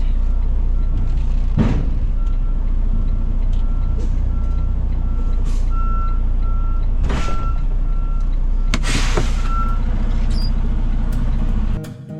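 A truck backing up a 53-foot trailer, its reversing alarm sounding in a few repeated beep bursts over a steady diesel engine idle, with occasional brief hissing bursts like air brakes.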